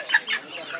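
A chicken chick at a poultry market gives two quick clucks close by, with faint chatter behind.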